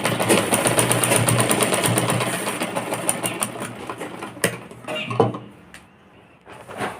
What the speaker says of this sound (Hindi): दो 3 बार सिलाई मार लेंगे।